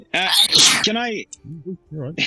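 A sneeze bursts out among people chatting during a game, a short loud noisy blast followed by more conversation.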